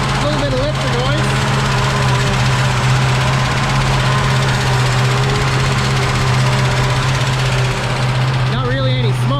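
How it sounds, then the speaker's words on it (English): A 1965 Ford Mustang barn find sits idling with a steady, loud low rumble and a faint rhythmic ticking from its lifters, continuous throughout, with brief voices near the start and end. "A little bit of lifter noise."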